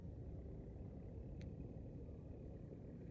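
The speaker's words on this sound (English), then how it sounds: "If you hear the roaring behind me, that's the tractor engines." Tractor engines give a faint, steady low rumble from far off that lasts throughout, with one brief higher chirp partway through.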